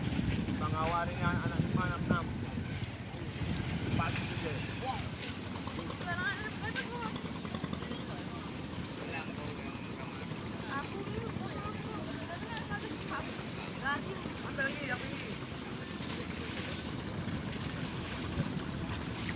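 Wooden motor boats at a harbour chugging past with a steady engine rumble and wind buffeting the microphone, while someone talks over the noise.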